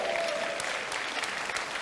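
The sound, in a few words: audience applauding and cheering at keynote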